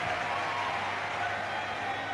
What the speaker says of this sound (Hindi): एक बार जोरदार ताली बजाकर